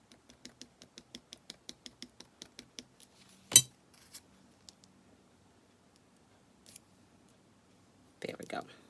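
Scissors snip through vellum paper in a quick, even run of about fifteen small crisp cuts, then a louder rustle and a few scattered snips before a paper shuffle at the end.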